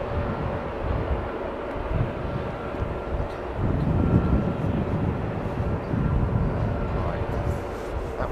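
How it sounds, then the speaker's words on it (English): At London Heathrow Airport, an Etihad airliner passes overhead as a low, broad rumble that builds midway through and then holds, with some wind noise and voices in the background. "Oh, Etihad coming over as well"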